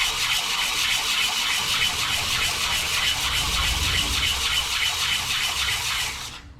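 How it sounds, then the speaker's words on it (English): Thrust washers for a Scout 648 stroker engine being hand sanded on 150-grit sandpaper: a steady, close, continuous scratchy rubbing with a fast back-and-forth rhythm that carries on without a break, then stops abruptly at the end. "After 1 hour of sanding the thrust washers"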